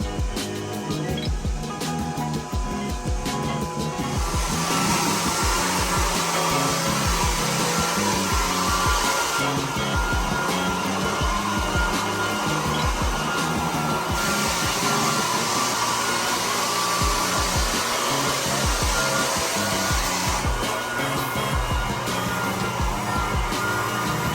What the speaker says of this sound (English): Got Bub on the sander.